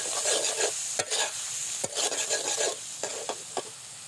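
Pieces of kuchia eel, caught from a pond, are stirred and fried in a pan, giving a steady close sizzle broken by repeated scraping strokes of the stirring utensil.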